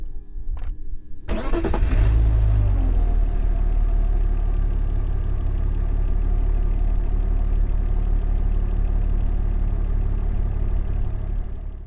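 After a short quiet moment, an engine cranks and starts, then settles into a loud, steady idle rumble that continues without interruption, played as ambient sound for a noise-cancelling test on UltraPods Max headphones.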